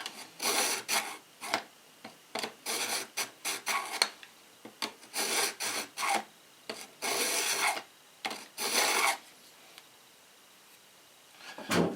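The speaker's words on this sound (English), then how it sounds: "The tip is the hardest part about sharpening knives. Following that grind." Edge of a Wusthof kitchen knife being sharpened toward the tip: close, rasping strokes come in rhythmic bursts of back-and-forth grinding, pausing briefly between runs, then falling silent near the end.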